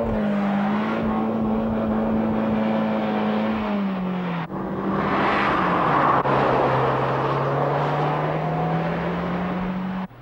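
Ford Escort RS Cosworth with a 2-litre turbocharged engine (220 hp), running loud and steady close by, its engine note dipping briefly at mid-run before pulling strongly again with no talk over it.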